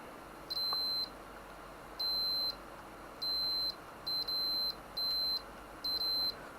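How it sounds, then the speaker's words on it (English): A Macintosh IIcx under repair emits a series of short, high electronic beeps, about six bursts spaced roughly a second apart, some doubled, over a faint steady hum. "Lots of beeping."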